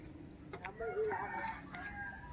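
A rooster crows once outdoors in a Philippine village yard with coconut trees, a rising then falling call at moderate distance over steady background noise and faint movement.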